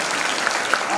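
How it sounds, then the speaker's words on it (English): An audience at an English language teaching conference claps together, a dense, steady wash of applause that fills the whole second at an even loudness. "Can you clap your hands and see our energy?"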